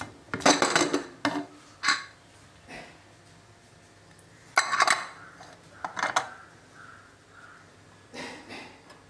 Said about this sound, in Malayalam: ഇനി ഇത് ഒരു പാത്രത്തിലേക്ക് മാറ്റി കാണാം.